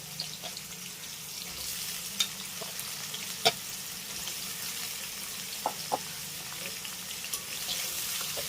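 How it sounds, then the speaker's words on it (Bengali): Diced potatoes frying in oil already used for pumpkin, giving a quiet, continuous sizzle with occasional sharp clicks and taps of stirring, fairly faint and close up, with no talking. "আলুগুলোকেও আমি খুব সুন্দর করে লাল করে ভেজে নেব"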